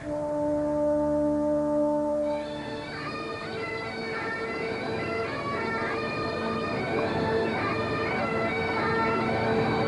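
Bagpipes played by kilted Highland pipers drone with a steady low hum while a bright, mournful chanter melody plays over it, loud and unbroken throughout.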